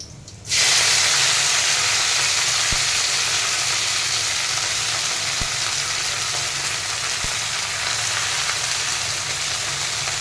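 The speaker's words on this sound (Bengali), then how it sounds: "দেখো আমার রান্না শুরু হয়ে গেছে, শাক ভাজা বসিয়ে দিয়েছি এখানে" Greens hit hot oil with a sudden loud, continuous sizzle that hisses steadily without a break, with a few faint clicks underneath.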